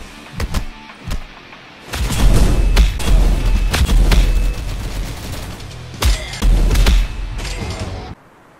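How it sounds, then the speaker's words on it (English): Gunfire in the video game Right 2 Fight: a few sharp separate shots, then a dense, loud burst of rapid shooting that keeps going and dies down, with more bursts near the end, and no one speaking. "I would just let this random kid shoot me with a gun."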